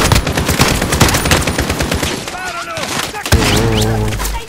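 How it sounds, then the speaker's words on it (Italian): Rapid automatic gunfire rattles in Call of Duty Warzone, loud bursts of close shots with thuds, broken by a brief lull and game interface tones, with a voice talking over it. "Sparano."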